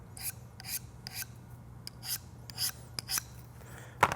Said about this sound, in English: I'm gonna sharpen this blade before I do that